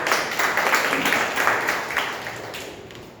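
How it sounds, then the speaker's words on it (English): Applause from an audience at a Toastmasters group meeting, a dense patter of clapping that swells and then slowly fades over a few seconds, moderately close. "please give them a round of applause"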